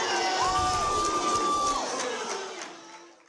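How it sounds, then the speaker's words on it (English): A room full of people at a government legal ruling cheers and whoops loudly, with a sustained whistle-like tone riding over the steady roar before it gradually fades. "the crowd reacted"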